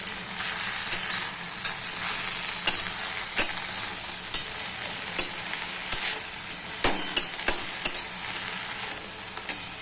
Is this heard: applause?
no